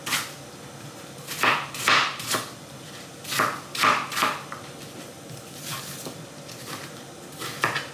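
Apples are chopped into small pieces on a board for homemade baby purée, with a dozen or so knife strikes at uneven intervals, close and moderately soft, and no talking.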